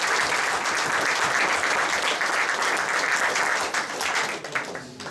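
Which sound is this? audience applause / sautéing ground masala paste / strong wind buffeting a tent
audience applause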